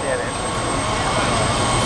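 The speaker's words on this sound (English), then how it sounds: "The helicopter leaving?" A helicopter leaving during a drink-driving assembly demonstration: a steady, loud, broadband engine and rotor roar lasting the whole short stretch, with voices mixed in.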